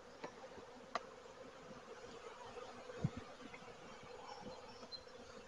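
Honeybees hum at an open hive during a spring inspection, a faint steady drone with a few soft knocks and clicks of frames, heard at low level with no talk.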